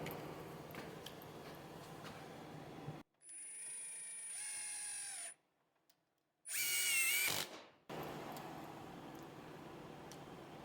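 A Metabo HPT 18V triple hammer impact driver in power mode drives a screw into pine: a steady whining motor run, a short silent pause, then a louder, rapid hammering burst that stops abruptly.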